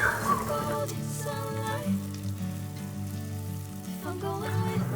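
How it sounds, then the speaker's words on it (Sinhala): Green chillies, rampe and curry leaves with kochchi frying in oil for a Sri Lankan mango curry, a steady close sizzle under a voice with musical tones throughout. "ඊට පස්සේ කොච්චි, අමුමිරිස්, රාම්පේ කරපිංච දාලා මේක පොඩ්ඩක් තෙලේ බැදෙන්න අරින්න ඕනේ"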